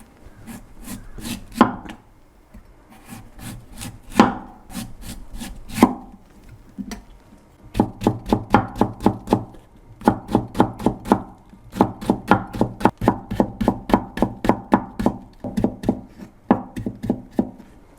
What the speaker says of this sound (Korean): 무를 좀 곱게 채 썰어야 돼요.